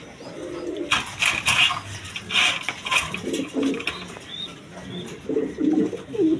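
Indian Bombay pigeons coo in repeated low throaty bursts, fairly close, with occasional wing flutters and some background bustle.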